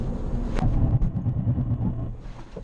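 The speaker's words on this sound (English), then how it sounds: "Okay, the ABS is quite violent. You can hear it." ABS pulses on a Hyundai Elantra Turbo or Honda Civic Turbo during a hard emergency stop, heard as a rapid low shuddering throb over steady road and cabin rumble.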